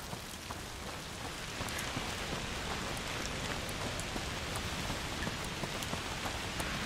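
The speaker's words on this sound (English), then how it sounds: "Oh, rain." Steady, dense rain patters on surfaces throughout a scene in the video game A Plague Tale: Requiem, a continuous hiss with scattered sharper drop hits and no voices.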